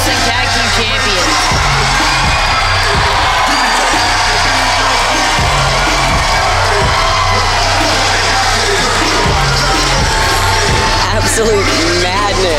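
A live wrestling crowd at Stage AE cheers and yells in a loud, continuous roar, with a commentator talking over the noise throughout.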